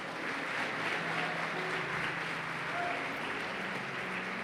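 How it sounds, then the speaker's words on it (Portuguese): A church congregation applauds in a steady, even wash of many hands clapping together, sustained and moderately loud with no clear breaks. "Você pode aplaudir a Jesus?"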